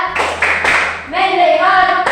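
Classroom group clapping routine, bursts of hand claps mixed with children chanting together, loud and close, with a teacher's voice leading.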